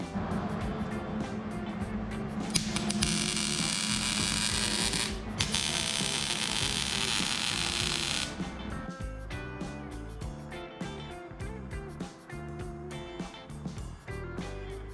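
A buggy frame is welded together for a 4x4 crosskart build, giving a steady, loud crackling buzz for about eight seconds. Intermittent banging and tool noises follow as the work continues.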